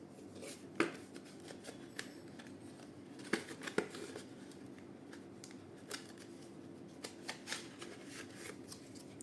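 A 256 GB SD card in generic packaging is unwrapped, with quiet crinkling plastic and a few sharper snaps and rustles scattered over several seconds, close and soft.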